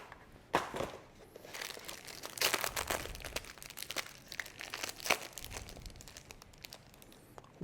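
Plastic packaging of Magic: the Gathering foil cards crinkling and tearing close up, a series of irregular crackling rustles and sharp crunches at low volume, with no talking.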